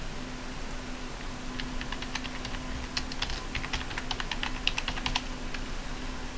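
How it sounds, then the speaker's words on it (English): Fingers type steadily on a computer keyboard while entering an email address and password, a run of quick, close, dry key clicks with irregular rhythm over a faint steady hum. "Now you type in your email and the password that you want to create."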